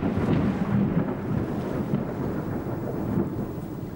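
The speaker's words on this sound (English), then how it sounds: "A fierce storm has us running for shelter." A fierce tropical thunderstorm by the sea with 30-knot winds, its thunder rumbling loudly and continuously under a dense, close wash of heavy rain, with no voices.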